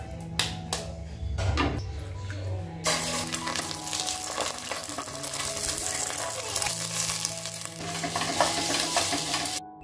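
Food sizzles in an oiled pan with clinks and scraping of a utensil, starting with a few sharp knocks before a steady frying hiss.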